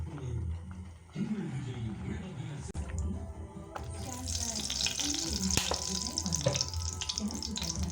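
Crab masala sizzles and fries steadily in a pan, a continuous crackling hiss that grows louder partway through, with a voice speaking over it.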